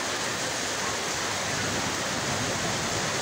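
Heavy rain pouring down in Khulna city, filling a rooftop and flooding the road, a dense constant roar of falling water, loud and unbroken from start to finish with no voices.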